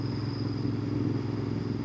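A Royal Enfield 650 motorcycle rumbles steadily as it is ridden, with a continuous low engine drone and a thin whine above it.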